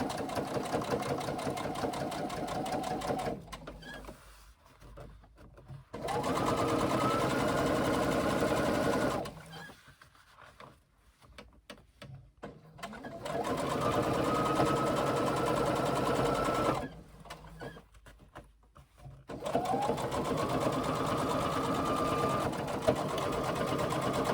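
Sewing machine stitching a 3/8 inch seam on a tote bag, running in three steady bursts of rapid mechanical whirring separated by quieter pauses, close and fairly soft with no talking.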